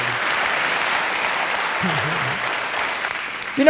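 An audience at a county government address gives a big round of applause, a steady dense wash of clapping that runs throughout, with a faint voice briefly audible underneath.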